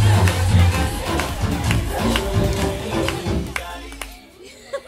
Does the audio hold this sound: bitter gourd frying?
no